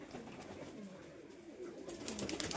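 Pigeons cooing at a pigeon sale in Bangladesh: soft, low, rolling coos repeat steadily over a faint background, growing a little louder and busier toward the end.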